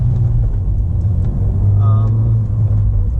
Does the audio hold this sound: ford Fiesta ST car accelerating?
yes